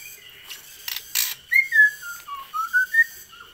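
A Murai Borneo (white-rumped shama) sings close up in clear, sweet whistled phrases, rising and falling slides with a few brief harsher bursts, loud against a quiet background with no voices.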